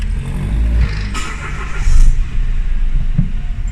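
A car engine idles steadily while being checked for misfire, a close, even rumble with a couple of slight surges and no obvious stumbles, no talking.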